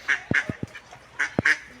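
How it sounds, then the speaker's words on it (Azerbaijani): Mallard ducks on the water give a handful of close, nasal quacks in two short clusters, each call a brief raspy burst with quiet gaps between. "Orada bir yaşılbaş çıxıb suyun üstündə dönür."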